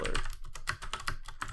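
Rapid keystrokes on a computer keyboard while code is entered in Unity, a steady, close clatter of distinct clicks with small irregular bursts and no voices.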